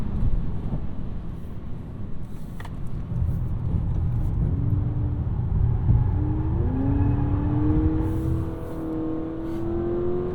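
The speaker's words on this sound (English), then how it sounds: "Do you like the piped-in engine noise?" Synthesized engine sound piped into the cabin of a 2023 Honda Accord, a steady drone that climbs in pitch with rising whines as the car accelerates, heard from inside with no talking.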